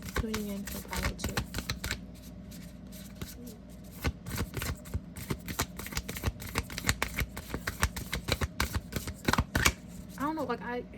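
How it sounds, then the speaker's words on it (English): Oracle cards are shuffled by hand in quick, crisp riffles and slaps, close and fairly quiet, the irregular flutter continuing for several seconds. "I know I'm shuffling these oracle cards"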